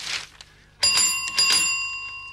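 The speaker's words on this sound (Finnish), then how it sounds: "sois tuo ovikello ihan issessee tuol" A doorbell rings out with bright, sustained chiming tones, sounding twice in quick succession after a brief quieter rustle.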